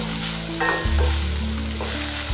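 Onions sautéing in a pan for village-style chana dal chutney, a steady close sizzle with a low rumbling hum underneath, no voices.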